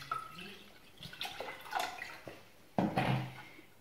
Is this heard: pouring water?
yes